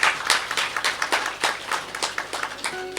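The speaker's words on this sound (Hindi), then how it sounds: "ये साधकों की तालियां ही आपके लिए आशीर्वाद है।" Audience applause at a devotional gathering in Kathmandu, Nepal: irregular bursts of hand claps, fairly close and steady, with no speech over them.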